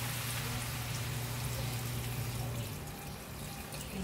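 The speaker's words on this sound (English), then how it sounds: "I will put the broth, the pork broth." Pork broth pours into a pot of home-cooked Filipino sinigang, a continuous soft watery rush with a low steady hum underneath, fairly quiet and with no talking.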